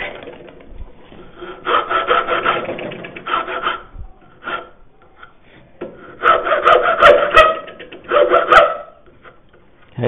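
Hand file rasping a wooden tenon down toward its shoulders, heard as close, bursty back-and-forth rubbing strokes in uneven clusters separated by short pauses.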